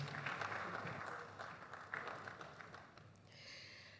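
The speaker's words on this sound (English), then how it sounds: "Please, a round of applause for her one more time" An awards-ceremony audience applauds, moderately loud at first and then thinning out, with scattered claps before a brief higher sound near the end.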